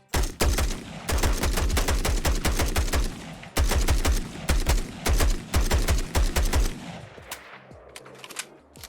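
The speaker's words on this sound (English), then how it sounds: "let's go ahead and show off a mag dump and a reload" A rifle from a Fallout 4 weapon mod empties its magazine in loud, rapid bursts of shots with brief pauses between them. The firing then stops and gives way to quieter clicks and clacks of the reload.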